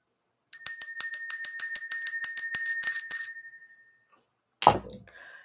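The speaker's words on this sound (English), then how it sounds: "Let's go ahead and ring the bell." A small bell rings in a rapid series of about fifteen bright strikes used to clear energy, ringing out and fading into silence, followed by one lone knock-like sound.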